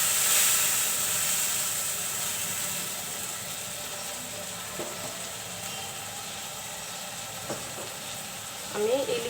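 Spice mix sautéing in a pan for a Bengali taro-stem dish, a steady moderate sizzle with scraping stir noises and a few clinks near the end.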